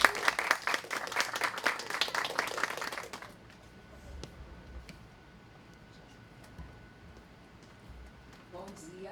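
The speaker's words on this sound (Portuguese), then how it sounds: "Peço uma salva de palmas para Samira Caetano." Short burst of audience applause for a speaker at a talk, lively for about three seconds, then dropping to quiet room tone with faint rustles.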